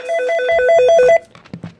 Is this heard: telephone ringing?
yes